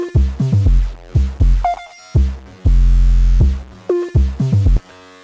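A booming, gritty bit-crushed 808 kick drum pattern with distorted low thumps and one long sustained bass hit, loud and close, no voices.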